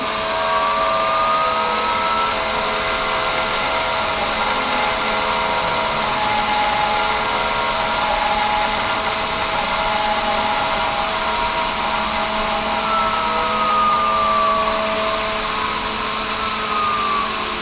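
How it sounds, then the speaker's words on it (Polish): A CNC milling machine cuts a carburettor throttle plate with a loud, steady, continuous mechanical whine and drone. The sound carries faint shifting tones, holds an even level throughout and has no talk over it. "na frezarce już mi się tnie przepustnica prąd, będzie głośno."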